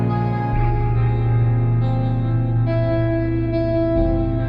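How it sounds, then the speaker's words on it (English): Cinematic guitar processed through Ujam Cinedream with heavy space reverb and some drive, sustained chords ringing and shifting, washy and wide, with no talking. "Even more space reverb here."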